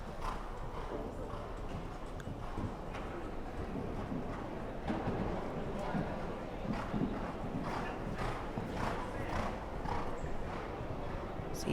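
Horse hooves clip-clopping steadily across a showjumping arena floor at an outdoor show, a continuous busy rhythm beneath a commentator's voice and general crowd murmur.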